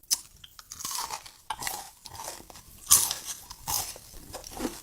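Crunchy Algerian almond samsa pastry being bitten and chewed up close, with repeated loud crisp crunches in uneven bursts and quieter chewing between them.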